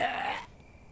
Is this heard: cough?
yes